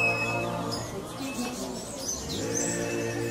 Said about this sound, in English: aviary we go. Birds everywhere.